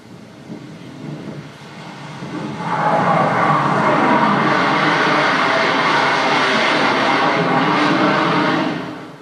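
A Gloster Meteor jet aircraft roars past, rising suddenly from a distant rumble to a loud, sustained roar before cutting off.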